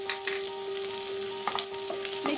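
Chopped onion frying in hot oil with curry leaves: a steady close sizzle with a faint tonal hum and occasional stirring scrapes, no voices.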